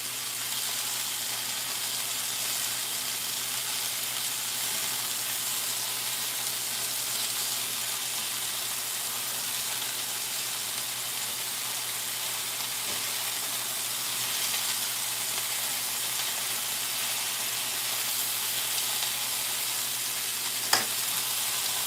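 Chicken frying in hot grease gives a steady, even sizzle and crackle close up, continuing without break and with no talking.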